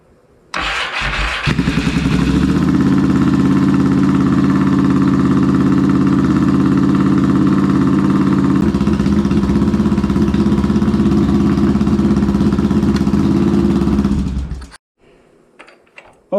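A Yamaha XS650 motorcycle with BS34 carburetors, cold and on choke, cranks and fires up, then runs loud and close at a steady idle with occasional carburetor popping before the engine shuts off.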